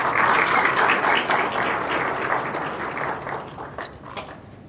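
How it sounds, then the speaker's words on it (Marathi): An audience applauding uniformed police officers at a Thane Police ceremony, a dense burst of clapping that is loud at first and gradually thins and fades. "आपण इथं जोरदार टाळ्या वाजवूया"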